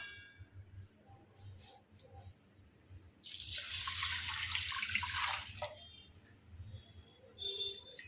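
Rice, India Gate basmati, is rinsed in water from a tap, giving a burst of close running and splashing water in the middle of otherwise quiet kitchen sounds with faint dripping.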